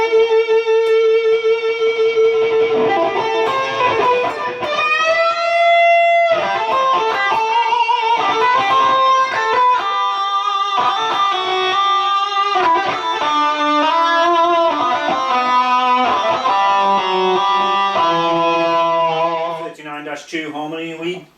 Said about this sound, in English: U38-2, high gain lead 2 it says.